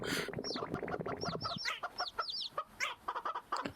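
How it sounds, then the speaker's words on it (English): Chickens cluck and chirp in quick, uneven bursts in a VRChat game world, with several birds close by and calling over one another. "get surrounded by chickens"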